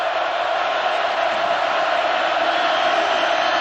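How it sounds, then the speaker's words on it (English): A football stadium crowd at a Nicholls game roars steadily for the defense, a dense, sustained wall of cheering that stays loud and even throughout with no break. "A chance for this crowd to make some noise for their defense."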